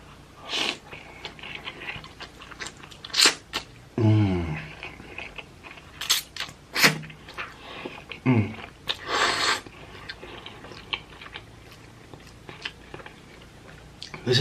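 Someone eats spicy hot chicken ramen noodles up close: wet chewing and slurping come in irregular bursts, with a long noisy slurp partway through and occasional cutlery clinks and breaths between quiet pauses.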